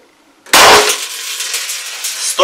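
A single sharp, loud crack from a Gletcher SW MP air pistol, followed by a lingering hiss and ring; a second sharp report begins right at the end.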